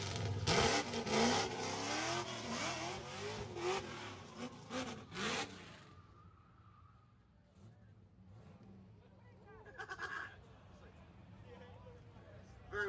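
A 750-horsepower drift car revs loudly at a HyperFest drift event for about six seconds, then fades to a distant engine drone and crowd noise with a short burst near the end; people talk over it.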